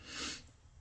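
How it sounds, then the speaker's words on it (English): A single short, breathy nasal sniff, close and fairly quiet, with no talking. "I'm going to be sniffling a lot"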